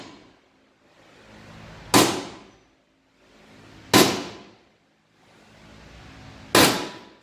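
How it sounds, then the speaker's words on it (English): Three sharp metallic strikes ring out about two seconds apart, each a hard hammer blow on a center punch against metal with a quick bright decay, close and clear. "get a punch and a hammer and just center punch all these guys right here"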